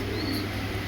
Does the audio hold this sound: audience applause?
no